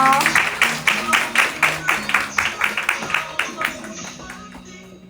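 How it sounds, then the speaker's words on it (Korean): Clapping from a small group at a Latin dance class, with brisk, evenly spaced claps close by that gradually fade over several seconds, and no voices. "도움 주신 수빈이에게 박수 주세요"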